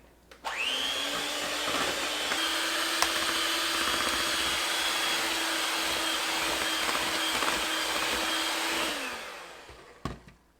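An electric mixer runs steadily for several seconds as it blends cheesecake batter with eggs, a loud continuous motor whine that starts abruptly, holds an even pitch, then winds down and stops, with no talking.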